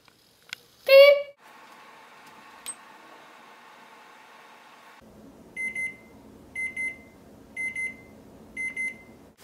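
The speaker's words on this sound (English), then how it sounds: "And then the timer went beep, beep," A kitchen timer set during a freezer experiment for a science project beeps in four evenly spaced short double bursts, clear and close, after a brief vocal sound and a stretch of quiet humming.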